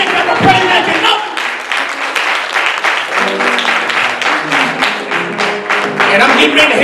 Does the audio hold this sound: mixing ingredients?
no